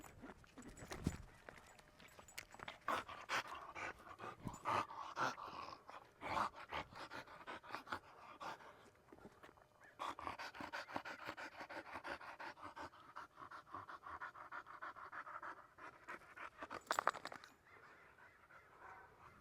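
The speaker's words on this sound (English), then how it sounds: "This is a 9-month-old pit bull." A 9-month-old pit bull pants steadily and rapidly, close by, while its paws patter along in footsteps, with louder bursts of breathing now and then.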